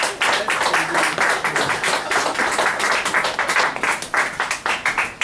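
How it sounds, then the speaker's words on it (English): A small audience at a downtown book release reading applauds a poet, a quick, lively patter of close, distinct hand claps that carries on steadily for several seconds without speech. "Clap, clap,"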